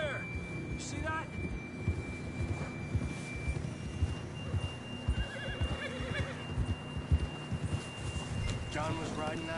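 A horse neighs in the Red Dead Redemption 2 video game, whinnying near the start and again near the end over steady clip-clop hooves and game sound, with voices talking throughout.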